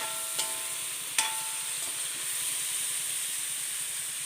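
Bitter gourd with the other ingredients sautés in a pan for Kerala pavakka perattu, a soft continuous frying hiss with two brief utensil clicks early on, close and quiet with no voices.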